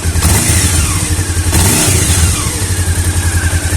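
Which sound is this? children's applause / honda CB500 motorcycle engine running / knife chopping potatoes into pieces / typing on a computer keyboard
honda CB500 motorcycle engine running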